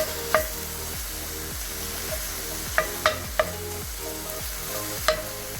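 Hamburger meat and onions fry in a pan with a steady loud sizzle, broken by occasional scrapes and clinks as the food is stirred.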